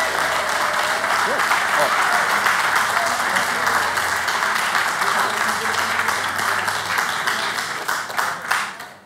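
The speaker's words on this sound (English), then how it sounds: "let's give another round of applause to the Land Trust." Sustained audience applause at a brewing company event, dense and steady clapping from a crowd that thins out and tapers off at the end.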